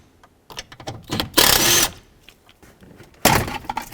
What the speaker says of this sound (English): Now I need to take out these 2 8mm screws over here.